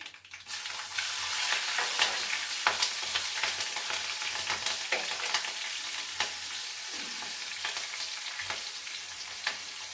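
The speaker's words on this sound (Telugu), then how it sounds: "ఇప్పుడు మిరపకాయలు వేసుకున్నానండి" Dried chillies sizzle in hot oil in a pan while being stirred for Navaratri pulihora (tamarind rice), a steady close frying hiss broken by light scrapes of the spoon.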